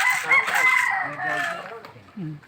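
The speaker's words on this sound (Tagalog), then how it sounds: "Manok. Yan, manok. Ayan sila." A rooster crows near the start, then chickens cluck close by, with a few faint voices mixed in underneath.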